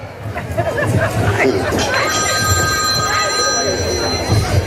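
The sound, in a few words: telephone ringing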